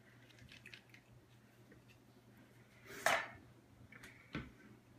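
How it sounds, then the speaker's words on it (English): A fresh lime pressed upside down in a Zest and Press kitchen squeezer: a quiet, close, brief squish and crunch of the press, followed by a smaller click, over a soft background hum. "I'm going to, again, squeeze some fresh lime into it."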